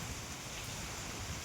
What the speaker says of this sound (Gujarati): ઉનાળામાં વરસાદ આવે છે